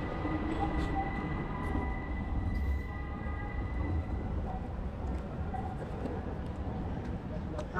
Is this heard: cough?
no